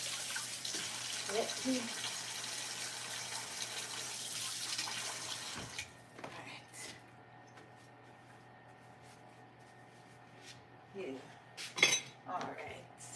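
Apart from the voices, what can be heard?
washing out a container under running tap water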